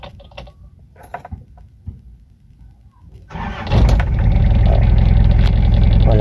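Toyota 2L diesel engine with its RPM gauge removed, cranking after some quiet clicks and handling noises, then catching into a loud, steady, rattling idle that holds to the end.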